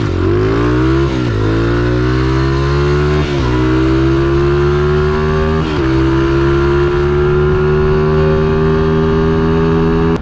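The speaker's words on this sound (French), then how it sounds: "Et pourtant t'es en motocross" A motocross motorcycle rides through city traffic, its engine loud and close throughout, revving up repeatedly in rising pulls with brief drops between gear shifts.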